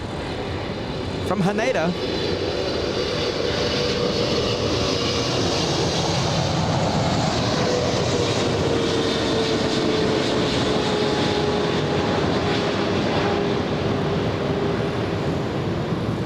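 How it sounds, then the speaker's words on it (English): A heavy One World livery Boeing 777 from Haneda lands at LAX with a broad, steady roar and a faint descending whine, distant and sustained, with brief speech near the start. "We have a heavy coming in. Short final, about to touch down."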